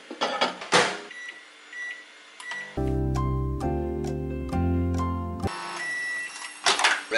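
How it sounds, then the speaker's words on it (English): A microwave oven beeps a few times, then runs with a steady low electric hum for a few seconds before stopping with more beeps and clicks, close by and with no talking. "and now microwave."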